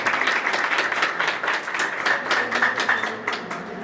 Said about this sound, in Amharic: የወደደው ማጨብጨብ ይችላል።